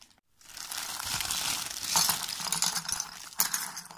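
A cellophane bag holding crochet hooks from a parcel crinkles up close, with continuous rustling and a few sharper crackles after a brief quiet start.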